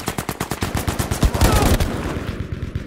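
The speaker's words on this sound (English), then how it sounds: "He heard us shooting the MGs." MG42 machine guns firing in the Firestorm battle royale game, rapid, rhythmic bursts of close automatic gunfire that overlap into a heavy spray before tapering off.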